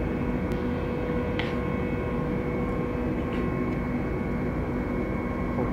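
Airbus A320 engines spooling up to full thrust for takeoff in Microsoft Flight Simulator 2020, a steady, loud broadband jet roar with a sustained tonal whine that holds without a break.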